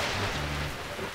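Rain pours in a dense, continuous hiss for about a second, with low tonal sounds from an animated children's cartoon about planes and helicopters running underneath.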